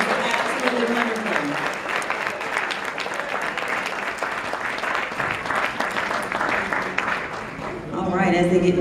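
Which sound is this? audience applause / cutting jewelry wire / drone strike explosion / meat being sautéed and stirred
audience applause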